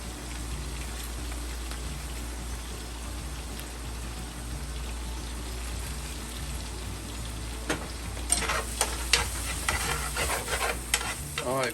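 Sausage sizzles in hot grease in a pan, a soft steady frying hiss that turns into sharper crackles and clatter near the end as the pan is worked.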